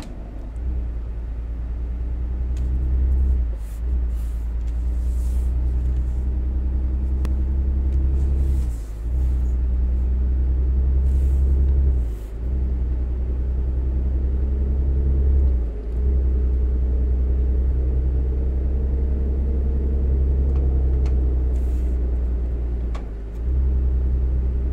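A truck engine in a PS4 truck-driving game rumbles steadily at low pitch, a continuous heavy drone with brief dips every few seconds like gear shifts, close and loud throughout.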